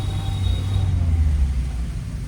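Car pulling away in first gear in city traffic, a steady low engine rumble with road noise heard from inside the cabin, fairly loud and even throughout.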